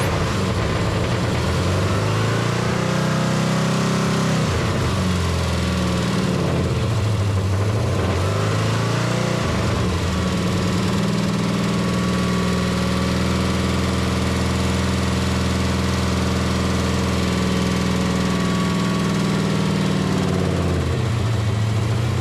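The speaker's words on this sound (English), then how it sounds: "no one wants to listen to an engine rev for 15-20 minutes" A Big Block Chevy 454 V8 with a failed hydraulic flat tappet cam rumbles nearby with a deep, loud idle during cam break-in, rising in a few revs early on before settling into a steady drone.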